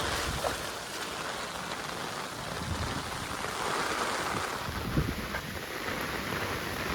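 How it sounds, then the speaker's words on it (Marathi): A small waterfall pours during heavy rain, a steady broadband wash of falling water mixed with the hiss of rain. It is fairly quiet and even, with no voices. "इथे एक छोटासा धबधबा आहे"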